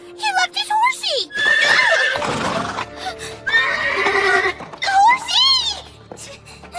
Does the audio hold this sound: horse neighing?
yes